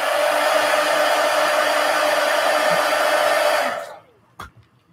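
Hair dryer blows steadily at close range over a mixed media art piece built from abandoned books, a loud constant whoosh for nearly four seconds before it switches off, followed by a small thump.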